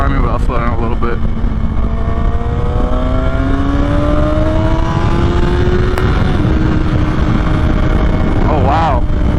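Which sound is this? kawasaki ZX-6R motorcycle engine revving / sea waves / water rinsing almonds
kawasaki ZX-6R motorcycle engine revving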